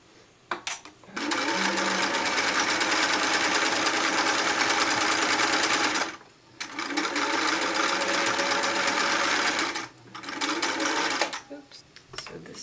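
Sewing machine stitching sweater pieces together: a steady, loud mechanical whir runs in long bursts of several seconds, stopping briefly twice between runs, close up.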